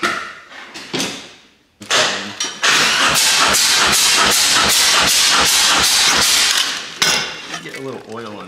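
A Harley-Davidson Road Glide with an S&S 475 cam and a Khrome Werks Outlaw 2-1 exhaust is started for the first time: a few short bursts, then a loud, rapid, even engine pulse close by, settling near the end as people talk.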